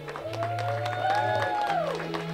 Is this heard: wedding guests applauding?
yes